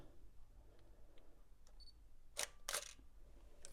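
A DSLR camera's mirror and shutter fire in two sharp, close mechanical clicks about a third of a second apart, preceded by faint focus beeps over a quiet room hum.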